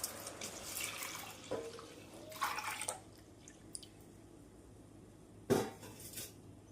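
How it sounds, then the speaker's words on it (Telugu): Milk poured into a pan on the stove for a sweet dish, then stirred with faint liquid sloshing and a couple of sharp utensil clinks against the pan. "ఇప్పుడు ఈ పాలను వేసుకొని కలుపుకుందాం."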